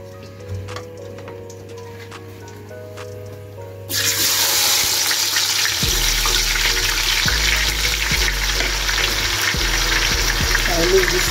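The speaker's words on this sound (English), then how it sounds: "I'm going to fry our onions now." Onions frying for a Nigerian stew, starting suddenly as a loud, steady sizzle after a quieter stretch of low hum and faint ticking, with a droning tone underneath.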